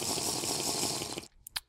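A Minecraft character plunges into ocean water above an underwater guardian temple, giving a loud broadband watery rush that lasts over a second, then cuts off abruptly into quieter bubbly, muffled underwater blips.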